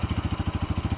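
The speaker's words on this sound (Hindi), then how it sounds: "ये है NS200 का आइडल साउंड।" A Bajaj Pulsar NS200 motorcycle engine idles close by, a steady rapid low thump pulsing about twelve times a second with no voices.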